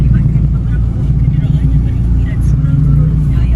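Busy car traffic near a Ramadan bazaar in the early evening, a steady dense roar of engines and passing vehicles close by, with someone talking over it.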